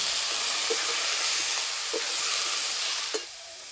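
Spice masala for til fulkopi, cauliflower with sesame, sizzling and hissing in a pan after a splash of water, a continuous steamy hiss with a few soft stirring knocks.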